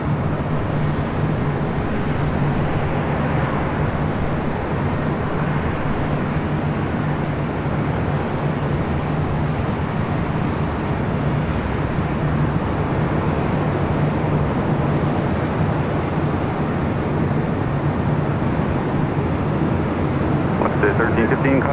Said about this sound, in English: Next takeoff on the south side